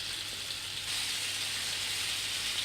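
Chops fry in a pan with a steady, even sizzle and hiss that holds at a constant level throughout, close and moderately loud, with no talking.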